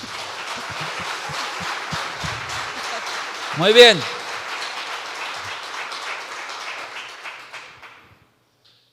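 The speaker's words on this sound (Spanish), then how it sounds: "Un aplauso para el Señor." A church congregation at a worship service gives a round of applause to the Lord, moderate rapid clapping with someone speaking and a brief loud vocal swell partway through, before it all fades to silence.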